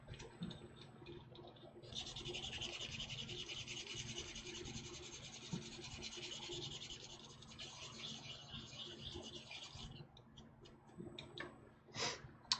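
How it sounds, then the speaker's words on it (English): A small model kit part is being sanded by hand, a faint, close rubbing rasp that goes on steadily with short pauses near the end. "we'll sand this thing up"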